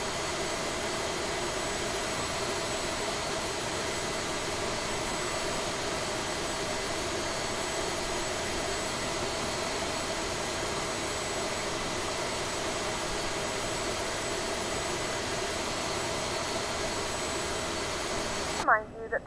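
Right jet engine of an A32NX airliner spooling up in Microsoft Flight Simulator, a steady broadband roar and whine holding at an even level throughout, with a cabin safety announcement voice running over it before a brief cutoff at the end.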